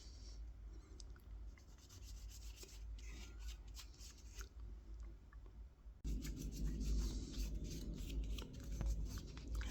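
Cloth rubbing excess oil from a carved kolrosing wooden spoon, a soft continuous scrubbing sound that grows louder and denser in the last few seconds, with no talking.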